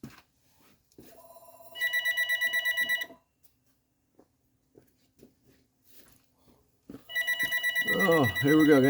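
A telephone rings in a garage where a Lincoln Town Car window motor is being replaced: two bursts of loud electronic trilling separated by quiet workshop clatter, a voice speaking over the end of the second ring.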